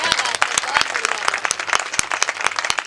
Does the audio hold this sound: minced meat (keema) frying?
no